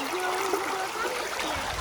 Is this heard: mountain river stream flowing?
yes